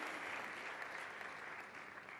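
An award-ceremony audience in the Teatro Giovanni da Udine applauds, continuous even clapping from a large hall heard alone and fairly faint for a couple of seconds.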